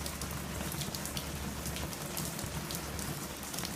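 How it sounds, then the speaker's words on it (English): Steady rain patters on a hard surface, a dense, even hiss of drops close by, with a low rumble underneath and no voices. "So it decided to start raining."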